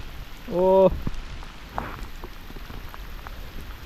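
Steady rain patters on a surface throughout, briefly joined early on by a loud tonal sound and a few scattered knocks.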